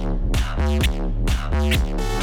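Chirp scratches on a turntable record worked with a crossfader, a repeated pattern of short choppy strokes sounding loud and close, with no talking.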